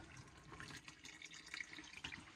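Water from a pump outlet spilling into a bucket, a faint, close splashing trickle with small irregular drips and gurgles, quiet and continuous with no talk.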